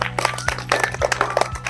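A class of children claps together in a short, ragged patter of overlapping hand claps, fairly close, over a low electrical hum.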